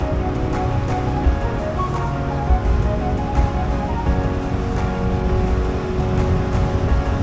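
A mountain stream rushes along a ghat section of the Kemmannugundi hills, making a steady, dense broadband roar of flowing water that stays fairly loud and constant throughout, with no voices.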